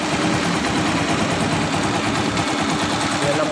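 Honda TMX 125 motorcycle engine running steadily after a valve clearance repair, a dense continuous idle with a fast rapid pulsing, loud and close throughout with no voices.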